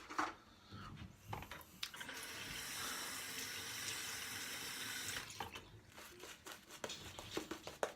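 Water runs from a tap into a sink, a steady splashing stream lasting about three seconds, framed by quieter clinks and handling noises before and after.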